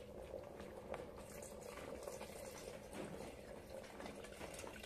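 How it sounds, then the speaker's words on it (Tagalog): Coconut milk (gata) boils in a pot with a faint, steady bubbling simmer that stays even from start to end. "pakuluin natin, guys, yung ating gata"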